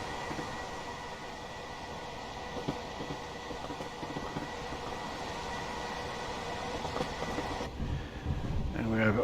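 Class 377/5 electric multiple unit running in Train Simulator Classic through Greater London near Cricklewood, a steady rumbling roll with faint rail clicks throughout, growing slightly louder near the end.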